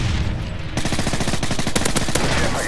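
Rapid bursts of gunfire in the video game Modern Warfare 3, dense rattling volleys firing repeatedly across the whole stretch, loud and close with no talking.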